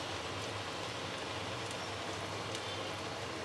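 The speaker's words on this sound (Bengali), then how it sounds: "আর এক পিঠ ভেজে নেব।" Aloo puri frying in hot oil over a medium-high flame makes a soft, steady bubbling hiss, like light rain, that continues evenly without pause.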